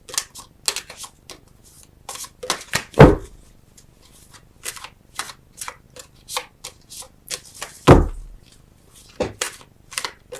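Tarot cards are shuffled and drawn by hand in quick flurries of crisp riffles and slaps, with a couple of heavier thumps as cards are set down. The sounds are close and irregular, with no talking.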